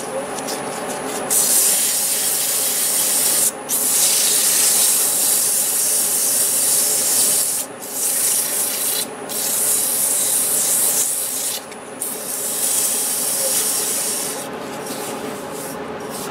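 Sandpaper rubbing against the inside of a small turned padauk wood vase on a lathe, a steady raspy hiss with several brief pauses as the paper lifts off, close and fairly loud.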